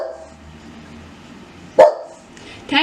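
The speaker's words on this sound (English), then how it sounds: "Tanky, they don't want to hear you barking." A dog named Tanky gives two sharp barks indoors, one in the middle and one at the end, over quiet room noise with a faint low hum.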